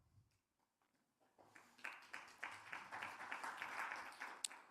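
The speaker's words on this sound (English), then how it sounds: "How's that for a spattering of applause?" Thin, scattered clapping from a small crowd starts after a quiet pause and builds into a light patter of applause.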